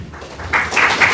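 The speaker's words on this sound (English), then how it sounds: "The applause takes up time." An audience at a village debate in Pelham breaks into a short burst of applause, a brief, fairly loud wash of clapping that swells toward the end.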